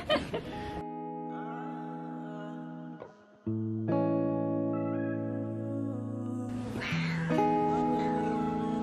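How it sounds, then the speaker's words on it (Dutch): Two kittens hiding underneath something meow in high, drawn-out cries, several overlapping calls close by and fairly loud, separated by brief pauses. "er zitten daar twee kittens onder."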